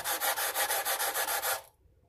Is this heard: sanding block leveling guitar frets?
yes